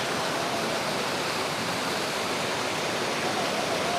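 Water gushing steadily from the damaged Pancuran 13 spout at Guci hot springs in Tegal, a continuous loud rushing splash with no talking.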